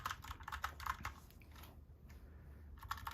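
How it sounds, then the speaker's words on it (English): Keys on a STOGA 60% mechanical keyboard clatter in quick, close, quiet bursts of typing, with a brief pause before the clicking resumes. "You can also hear the keys being pressed."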